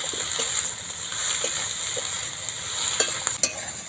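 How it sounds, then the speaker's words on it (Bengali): Okra with egg and a cumin-coriander spice mix sizzles steadily in a pan while being stirred, with a constant close hiss and a few soft scraping knocks near the end. "দিয়ে ভালো করে আরও একবার নাড়াচাড়া করে নেব।"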